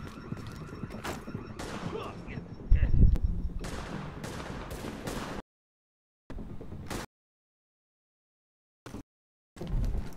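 Gunfire in The Division rattles in rapid bursts with a heavy close shot in the middle, then stops short, followed by silent gaps broken by brief clips of shooting.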